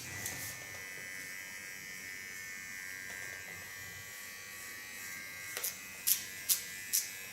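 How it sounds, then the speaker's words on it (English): A small electric hair clipper trimming a clean line on a side-shaved undercut, a faint steady buzz running throughout, with a few short sharp taps near the end. "I now clean this line with a small clipper"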